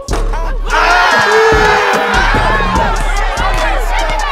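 Fans at a playground basketball game cheer and shout loudly as one excited crowd, with whoops and children's voices blending into a continuous roar.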